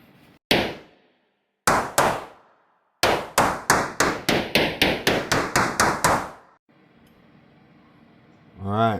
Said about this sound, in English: I'm gonna start knocking this seal on